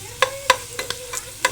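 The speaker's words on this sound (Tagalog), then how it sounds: "So, golden brown natin ng konti yung bawang." Garlic and onion sautéing in a pan, a steady soft sizzle under several sharp scraping strokes of a utensil against the pan, close and alone.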